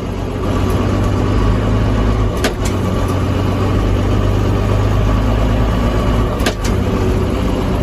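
A 2000 JCB Fastrac 3185 tractor engine runs steadily at a loud, close, even drone after a shift up into high gear, with a couple of faint clicks over it and no talk.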